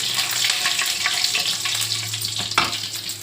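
Onions fry in hot oil with cumin and mustard seeds for a capsicum curry, giving a steady, close sizzle with occasional scraping from stirring.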